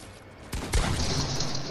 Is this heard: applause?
no